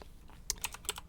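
Several quick, light keystrokes on a computer keyboard, a short irregular burst of clicks heard close and quiet.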